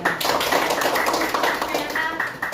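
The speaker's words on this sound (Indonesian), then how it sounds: "Tepuk tangan untuk teman kalian semuanya." Students in a classroom clap together in quick, uneven bursts at close range. A teacher's voice carries over the clapping during a teaching practice session.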